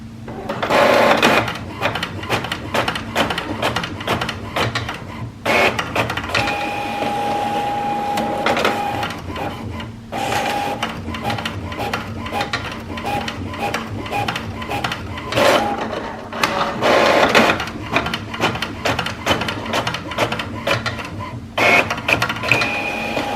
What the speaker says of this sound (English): We will print two-sided printing to show its duplex capabilities